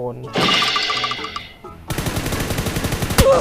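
Rapid automatic gunfire from the mobile battle royale game PUBG New State, played in first-person mode: a tight burst of loud repeated shots, then a second longer stream of fire with one sharp crack near the end.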